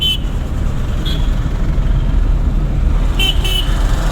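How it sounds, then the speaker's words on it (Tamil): A car passes on the road nearby at a driving lesson, its steady engine and tyre rumble filling the scene, with short horn toots sounding around one second and twice more near the end. "வண்டி வருது."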